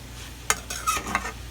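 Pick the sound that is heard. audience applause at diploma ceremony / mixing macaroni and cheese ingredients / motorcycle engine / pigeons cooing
mixing macaroni and cheese ingredients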